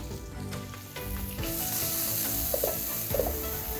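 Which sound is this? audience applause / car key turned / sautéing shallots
sautéing shallots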